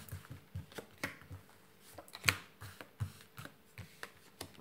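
Tarot cards are shuffled and handled up close: soft, quiet riffles and light taps scattered irregularly, with one brighter flick in the middle and no voices.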